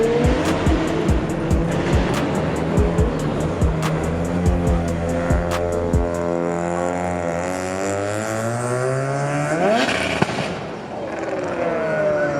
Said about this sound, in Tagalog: Drift car.